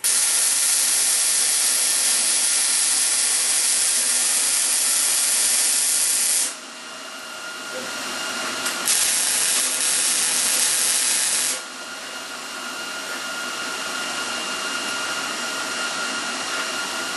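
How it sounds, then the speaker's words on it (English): Welding spokes on a mobile leg vice kit gives a steady loud hiss and crackle that runs unbroken, dips briefly partway through, then resumes with a slightly changed tone, with no voices. "at each one of those spokes, I'm going to put a good weld all the way around before I weld that"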